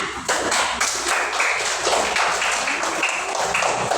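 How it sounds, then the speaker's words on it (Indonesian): Primary school class clapping hands together, a dense, close burst of rapid claps filling the room continuously for several seconds. "Tepuk tangan."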